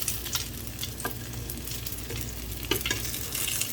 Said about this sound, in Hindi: इसमें ऑयल कम है इसलिए थोड़ा टेढ़ा करके भी आप लोग इसको फ्राई कर लीजिए, पका लीजिए।